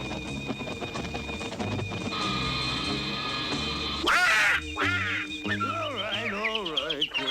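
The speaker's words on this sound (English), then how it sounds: "All right, quiet down, you birds." Cartoon birds, including crows and sparrows, squawk and caw in a noisy chorus over a background music score, with shrill cries, chirps and a sudden burst of squawking midway.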